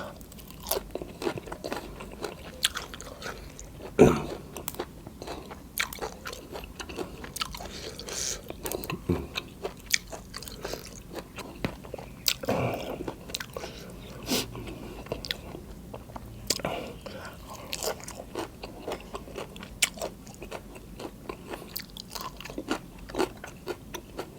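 Raw vegetables eaten with Thai bamboo shoot dip, close crunchy bites and wet chewing in an irregular rhythm, with a few sharp crunches standing out and occasional faint voices.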